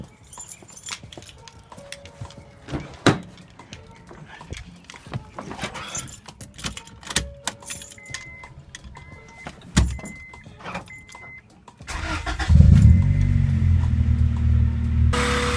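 A car engine cranks and starts after throttle body work, following a stretch of clicks, clanks and key jingles. The engine catches near the end and settles into a loud, steady idle close by.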